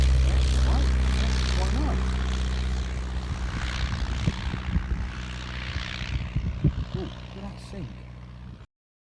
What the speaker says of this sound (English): This Luton Minor takeoff is one of the best clips to show just how steep this is.